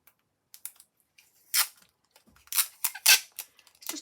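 Low-tack tape crinkles and squeaks in short bursts, peeled and pressed down with a few sharper snaps, quiet and close with pauses between handlings.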